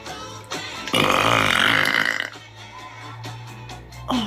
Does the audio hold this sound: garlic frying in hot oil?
no